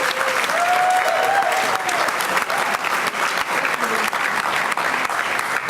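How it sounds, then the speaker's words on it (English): A school district meeting audience applauds the Oak Ridge High string program students, with dense steady clapping filling the room and a faint voice briefly underneath. "give them a round of applause and thank them"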